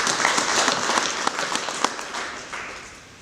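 A short burst of audience applause at a diplomatic business networking breakfast, with scattered individual claps standing out before it fades away.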